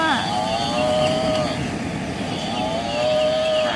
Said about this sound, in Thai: เสียงของสัตว์อะไรเอ่ย รู้ไหม วัวนะไม่ใช่ควายค่ะวัว